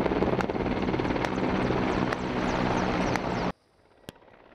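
A military helicopter flies during an exercise on the Yenisei, its steady rotor and engine roar loud and continuous for several seconds before cutting away to a faint background with one sharp knock.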